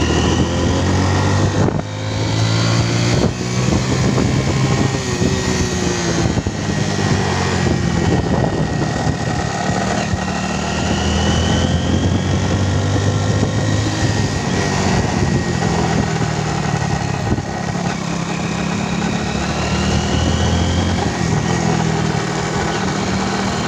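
A Hero Honda motorcycle with a fault that makes it drop out of second gear runs steadily in second, a loud, close engine drone whose pitch rises and falls slightly as it rides on.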